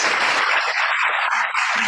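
Audience applause at an online Toastmasters debate meeting, a dense, steady wash of clapping lasting about two seconds with no voices over it.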